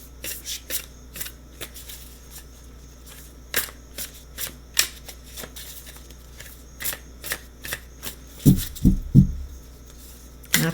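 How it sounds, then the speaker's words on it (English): Cards being shuffled by hand in short riffling bursts with pauses between, ending in a louder flurry of handling noise; no talking. "Not done shuffling yet."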